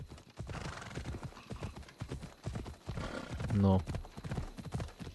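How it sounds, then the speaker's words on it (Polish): A horse gallops in Assassin's Creed Odyssey, with rapid, close clip-clopping hoofbeats throughout and a loud neigh near the end, while someone speaks over it. "Dawaj, jedź tym koniem szybciej przecież"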